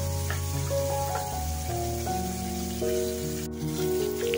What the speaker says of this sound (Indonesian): Ini lelenya yang kita goreng, kita balik-balik ya supaya matangnya merata ini.